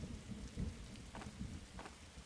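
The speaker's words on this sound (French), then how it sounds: "Bon, il pleut, mais c'est pas grave." Steady rain with rumbles of thunder in the forest survival game 99 Nights in the Forest, a dense continuous patter with a few brief louder swells, heard alone without speech.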